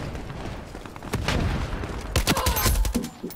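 Fast gunfire in the video game Ironsight during a team deathmatch on the Biolab map: scattered shots, then a quick cluster of sharp, close reports firing in rapid succession.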